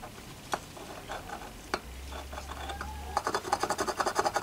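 Chemically nickel-plated metal piece being scratched in a backyard, soft irregular rubbing and scraping strokes with a few sharp ticks, turning to rapid rhythmic scraping near the end, with faint background hum.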